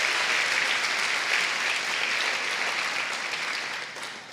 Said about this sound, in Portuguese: Pode aplaudir a ele.